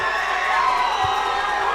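Crowd cheering and whooping fills the air at a national swimming championship in Uganda, a steady broadband roar of spectators with children's shouts rising above it and no single voice standing out.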